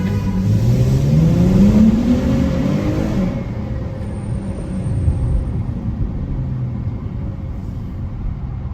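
A car engine revs inside a tunnel, a loud rising roar echoing off the walls for a few seconds before it eases back to a lower rumble that carries on steadily.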